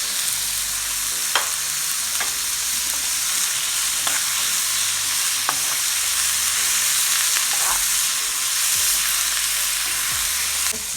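Plantain frying in hot oil, a steady loud sizzle that never lets up, broken by a few light clicks as the pieces are stirred and turned.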